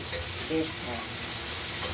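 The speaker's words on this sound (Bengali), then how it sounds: "ফুলকপিটার ভাজা এখনো চলছে এগুলো একটু পোড়া পোড়াভাবে ভেজে নিলে" Cauliflower fries in a pan while being stirred until slightly charred, producing a loud, continuous crackling sizzle with occasional scraping of the spatula, close up and with no voices.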